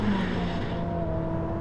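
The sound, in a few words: Ferrari SF90 Assetto Fiorano braking hard into a hairpin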